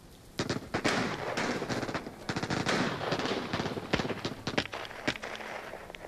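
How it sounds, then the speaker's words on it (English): Massive gunfight in The Walking Dead Saints & Sinners VR game: dense bursts of rapid automatic gunfire and single shots crackling nonstop, sharp and fairly close, with a few louder cracks standing out near the end. "Massive gunfight going on."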